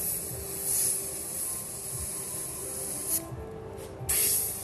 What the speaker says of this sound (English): I want all that air pressure to be used to spray that white through, or spray that other color through